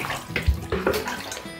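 Bath water splashes and pours over a baby doll's hair during a rinse, with short irregular sloshes and trickles close by.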